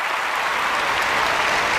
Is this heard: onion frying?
no